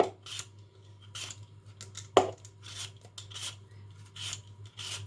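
Apples being grated for apple cookies: rhythmic rasping strokes repeat steadily, close and moderately loud, with one sharp clack partway through.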